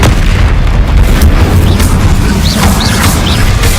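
Incendio fire spell in Hogwarts Legacy, a loud continuous blasting roar with repeated booming bursts and short rising whooshes toward the end, close and dense.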